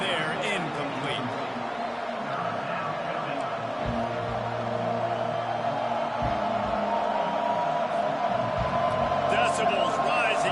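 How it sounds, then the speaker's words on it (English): Football stadium crowd roaring behind the defense on third down, a steady dense wall of noise that swells slightly toward the end, with a commentator's voice over it. "Decibels rising as the crowd gets behind this defense on 3rd down."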